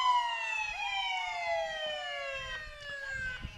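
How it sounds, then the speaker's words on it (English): Police siren from a 2012 Dodge Charger with a V8 Hemi in a town parade, a steady wailing tone sliding slowly downward, moderately close over crowd murmur and street noise. "They will be followed by a police car from the Jasper Police Department, a 2012 Dodge Charger with a V8 Hemi"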